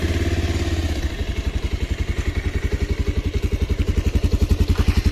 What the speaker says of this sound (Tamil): உங்களுக்கு பைக் வந்து ஸ்டார்ட் பண்ணி காட்டுறேன்.